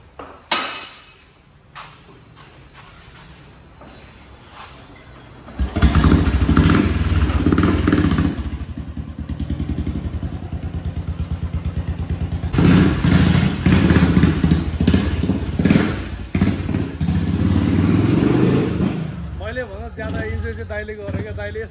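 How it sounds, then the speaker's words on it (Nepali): A loud modified motorcycle with chrome stickers revs hard at close range, a heavy throaty roar that surges in two long bursts after a quieter start, with people talking over it. "लाउड एकदम लाउड छ नि त मेरो बाइक"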